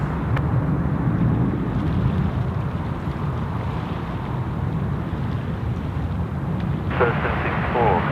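A China Southern airliner lands on runway 34 left at Sydney Airport, a steady, heavy broadband roar of engine and rushing air holding loud and constant throughout, with a faint radio voice over it.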